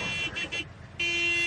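A cartoon car horn honks in short, bright toots, the first two brief and the last a longer steady blast, heard alone in a quiet scene.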